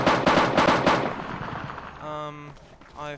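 Rapid automatic gunfire in ArmA2 Operation Arrowhead opens with a loud, close burst of evenly spaced shots, then fades into echoing reports as a voice speaks briefly near the end.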